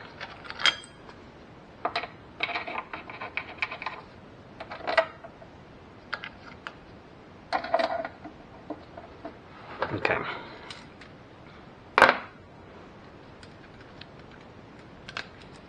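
Valve cover bolts on a 2004 Ford Focus being tightened in sequence with hand tools: scattered metallic clicks and short ratcheting bursts come in separate spurts, close up and moderately loud, with pauses between them.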